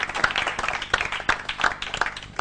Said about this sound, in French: Applaudissements pour l'équipe de Indomptables.